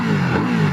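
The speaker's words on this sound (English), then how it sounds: "exhaust note," A 2022 KTM 890 Duke engine revs with a throaty, rumbling exhaust note, loud and close, holding a steady growl through the short burst.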